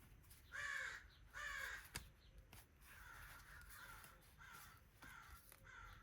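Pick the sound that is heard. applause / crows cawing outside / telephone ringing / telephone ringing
crows cawing outside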